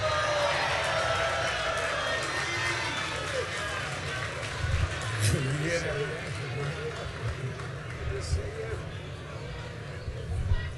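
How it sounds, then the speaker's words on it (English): A convention audience greets Joe Scarborough, host of Morning Joe, with a distant wash of cheering and crowd noise that rises and falls behind a speaker talking over it. "You hear that cheer for you."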